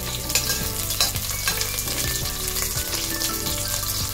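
Onions sauté in a hot pan for chicken soup with patola and sotanghon, a steady close sizzle with a few sharp stirring scrapes and clinks and no voices.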